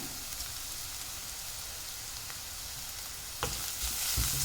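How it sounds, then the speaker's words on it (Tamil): Ginger garlic paste fries among sautéed onions in a pan, a continuous soft sizzle with faint crackle, then a sharper burst near the end as the frying grows louder. "இப்போ அது கூட நான் இஞ்சி பூண்டு பேஸ்ட்டு சேர்த்துக்கிறேன்"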